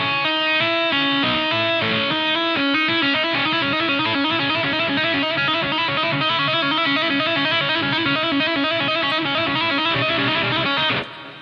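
Heavily distorted electric guitar played with the left hand alone, notes sounded by fretting-hand hammer-ons and pull-offs in a continuous, even run of short notes, loud and close with no talking, ending abruptly.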